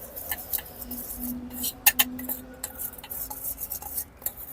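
Coriander, green garlic and chaat masala being mixed into a sandwich filling at a Surat street stall, with light clinks and scrapes of a spoon against a metal bowl, a few sharper clatters, steady and close, with no talk.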